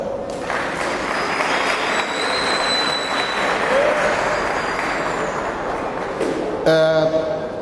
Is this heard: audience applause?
yes